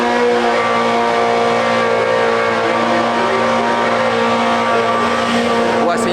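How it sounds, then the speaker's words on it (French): Engine of a small Formula 1-style race car at the GP Explorer event, a steady high-pitched drone with harmonic whine holding throughout, loud and continuous with a crowd-like wash behind it. "Je sais pas si vous entendez mais il y a la petite F1."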